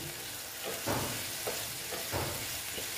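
Okra with sesame seeds stirred in a pan after a splash of water, giving a soft, faint sizzle with a few gentle, rhythmic scraping strokes of the spoon, no one speaking.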